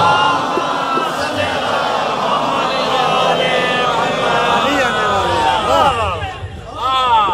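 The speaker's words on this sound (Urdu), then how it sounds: "بلند آواز سے صلوات تو پڑھے نا محمد و آل محمد" Crowd at a Muharram majlis gathering loudly reciting salawat together, a dense, roaring mass of voices that holds steady before a brief dip and a fresh swell near the end.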